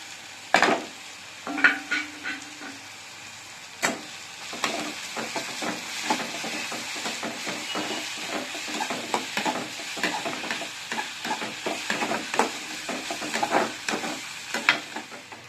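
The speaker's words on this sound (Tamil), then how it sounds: "அதுக்கு நான் எண்ணெயில் கரம் மசாலா சேர்த்துருக்கேன். இஞ்சி பூண்டு பேஸ்ட் சேர்க்குறேன்." Ginger garlic paste frying in oil with garam masala, a quiet crackling sizzle with a few sharp utensil clinks early on, then steady stirring and spattering, close, no voices.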